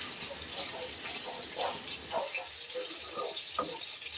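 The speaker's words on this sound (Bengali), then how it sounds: "আমি এবারে অ্যাড করছি একটু জল," Water poured into frying spice masala for a potol chingri curry hisses and sizzles steadily in the pan, a close, moderate wash of steam noise with small bubbling pops.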